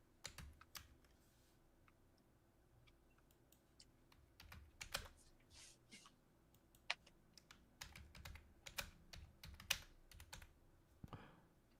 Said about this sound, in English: I hear the single digit typing going on over there.